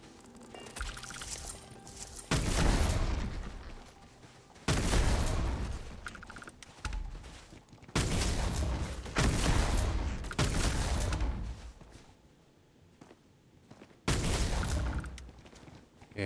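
In the Starfield video game, bursts of rapid gunfire arrive in repeated heavy volleys lasting a second or two each, broken by quieter gaps, loud and close with no talk.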